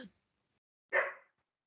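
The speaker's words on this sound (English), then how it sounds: "excuse my dog." A single short, loud bark from a dog indoors, close to the microphone, following a brief faint sound and then silence.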